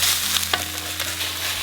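Halved cherry tomatoes sizzling in a pan over medium heat while being stirred, a close, continuous crackling fry with a few sharp scrapes of the spoon, no talking.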